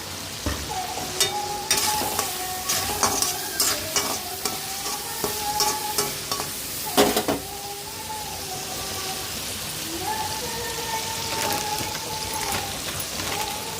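Chicken pickle with salt and turmeric is stirred in a pan, making loud, close sizzling and a rapid run of scraping and clattering strokes that eases into a steady fry.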